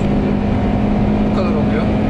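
A naturally aspirated VW Golf GTI engine drones steadily as it climbs uphill at the Nürburgring, loud and constant from inside the car, with someone talking over it.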